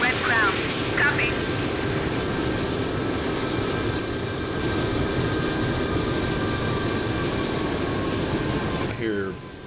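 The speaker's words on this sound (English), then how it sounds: "I hear friendly engine noises somewhere." Friendly aircraft engines droning in the Strike Fighters 2 naval flight simulator, a steady broad rumble that fills the scene continuously, moderately loud, with brief radio-like chirps near the start and end.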